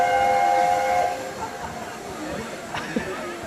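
A steam locomotive, an A4 class engine, idles at a station, with a steady hiss and tonal whistle-like hum, later a brief metallic clank and shuffling platform noise.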